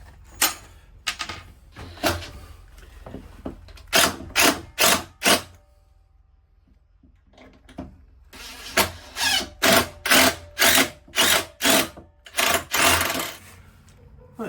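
A power drill drives pocket hole screws into timber lining during a narrowboat duck hatch fit-out, producing a series of short, loud whirring bursts in two clusters with a quieter gap between, close up and without speech.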